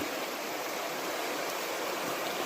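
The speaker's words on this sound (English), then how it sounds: "the water comes over here and through this little canyon" Stream water flows steadily through a small canyon on a forested trail, giving a dense, even rushing hiss that stays constant from start to finish with no voices.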